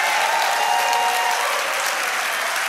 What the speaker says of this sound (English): give him a good hand clap